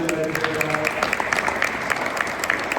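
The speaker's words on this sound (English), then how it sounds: "give her a round of applause" A short burst of clapping from a small crowd at a Black Education Week opening ceremony, steady and fairly close, with a voice briefly audible at the start.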